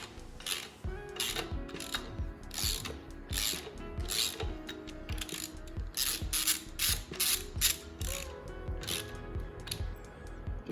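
A ratchet clicks steadily in rapid bursts, the pawl ticking close and clear, as bolts are tightened on a Nissan RB25DET engine for an R32 Skyline, with no talk.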